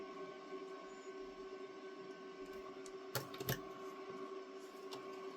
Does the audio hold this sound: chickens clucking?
no